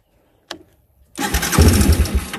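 A Timberwolf 250 engine in a Yamaha 225DX three-wheeler sputters once, then catches and roars to life, running loud and steady with a rough, chattering rumble and slight valve clatter.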